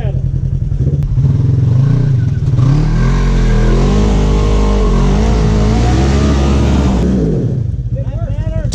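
An off-road vehicle on a dirt trail at Windrock revs hard at high RPM with its tires spinning. The loud, close, sustained engine roar lasts several seconds and then drops away, with voices heard at the start and end.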